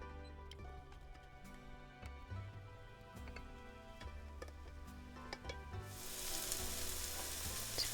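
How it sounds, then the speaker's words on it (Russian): Vegetables fry in a skillet for a healthy breakfast, a faint steady sizzle with scattered light ticks and taps of stirring, swelling into a louder, brighter hiss near the end; no voices. "Сейчас мы начнем обжаривать все овощи сначала на сковородочке"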